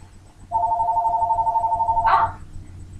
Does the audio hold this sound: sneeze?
no